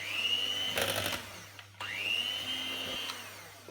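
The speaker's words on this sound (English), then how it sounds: "Whisk together till smooth." A whisk mixes milk and flour into a smooth batter for toad in the hole, making a steady close whirring hum that briefly drops out before resuming at the same pitch.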